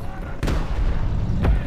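In War Thunder Mobile, a tank shell bounces off the turret of a Sherman Jumbo with two heavy, booming impacts about a second apart, loud and close over a low rumbling battlefield.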